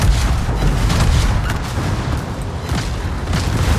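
Rapid booming gunfire and shell impacts pound a warship in a naval combat video game, a dense, continuous barrage of low thuds and bursts with no talking.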